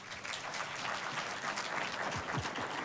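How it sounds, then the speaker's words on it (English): A crowd applauds a speaker at a stock exchange listing ceremony, dense continuous clapping that fills the room evenly, with a few low thumps near the end. "A bigger clap for him"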